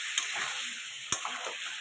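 A ground paste of poppy seed, peanut, cumin, chili and coriander sautéing in oil, hissing steadily up close, with a single sharp clack of a spoon midway and no talking.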